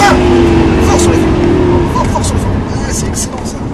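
A Lamborghini LP560 at full throttle on a race track at La Ferté-Gaucher roars loudly and steadily from close inside the car, its engine note holding then easing slightly.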